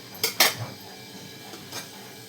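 A lid set down on a pot of cooking dal with green onion tops and tomato, giving a few sharp metallic clinks close together near the start, then a fainter clink a moment later, with no talking.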